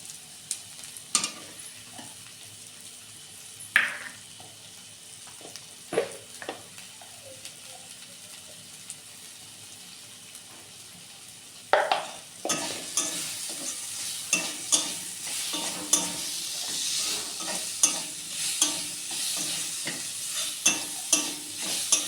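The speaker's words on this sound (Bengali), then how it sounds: "পেঁয়াজ ভাজা হয়ে গেছে" Onions with salt and turmeric frying in a pan while being stirred, a steady sizzle with repeated scraping strokes that grows louder and denser in the second half, close up with no talking.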